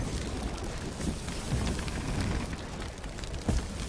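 Steady rain in a video game involving ships, a continuous broad hiss with a few soft low thumps mixed in, and no talking over it.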